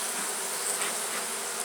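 Agitated honeybees from a nuc hive swarm around during an inspection while their queen is held trapped, making a dense, continuous close-up buzz with no talking.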